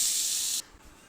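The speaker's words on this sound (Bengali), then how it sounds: "এই তেলেই দিয়ে দিলাম এঁচোড়টা দিয়ে আমি ভালো করে এঁচোড়টা ফ্রাই করে নেব" Young jackfruit fries in hot oil for a Bengali jackfruit-and-prawn dish, giving a sharp, loud sizzling hiss for about half a second that cuts off abruptly, then a faint hiss returns at the end.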